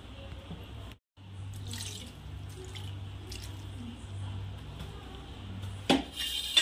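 Cold water runs steadily from a tap into a sink over soybean chunks, briefly cutting out near the start, then splashes and drains with louder gurgling toward the end.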